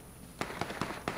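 Gunshots in the video game PUBG on Xbox: four faint, evenly spaced pops from a distance over a steady background hiss.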